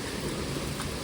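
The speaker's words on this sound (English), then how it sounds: "But this is no different than rain we've ridden in before" Rain falls steadily during stormy weather under a tornado watch, a brief, even wash of broadband patter with no voices.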